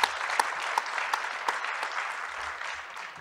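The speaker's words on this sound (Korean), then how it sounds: "다시 한번 환영의 박수를 보내주시기 바랍니다" A seminar audience gives welcoming applause, steady clapping from a room of people heard from a moderate distance, with a few sharper individual claps standing out.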